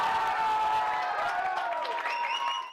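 Excited World Cup fans packed into a Washington DC bar cheer loudly, a dense continuous wall of crowd voices and shouts with a few sustained whistle-like cries near the end.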